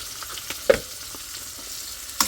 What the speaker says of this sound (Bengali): একটু ভাজা ভাজা করে নিই ভালো করে